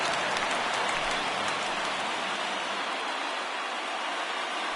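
Roar of a baseball stadium crowd of about 23,000 on its feet cheering for a final strike at the end of an evening game, a dense, steady wash of applause and shouting that stays loud throughout.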